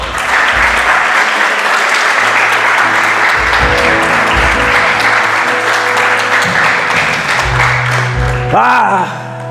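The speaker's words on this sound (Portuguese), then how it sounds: "Pode aplaudir o Senhor." A church congregation at a retreat night service applauds loudly and continuously, a dense sustained roar of clapping with low rumbling tones beneath and a brief vocal cry near the end.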